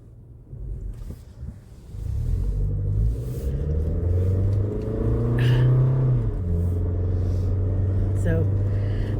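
A car approaches and passes close by on a road, a loud steady low engine rumble building and holding for several seconds alongside the speaker's voice.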